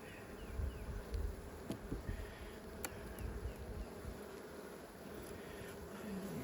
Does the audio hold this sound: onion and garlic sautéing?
no